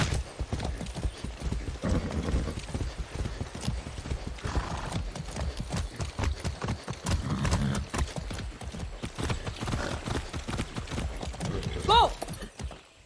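Horse hooves clip-clop in the video game Far Cry 6, a dense, rapid rhythmic clatter close by throughout, ending with a brief whinny near the finish.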